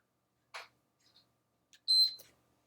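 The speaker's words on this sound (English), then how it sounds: "start our 40-second timer." Interval timer starting a 40-second set during a core circuit workout: a short burst, then a couple of faint blips and a clear high electronic beep with a brief tail, quiet against near silence.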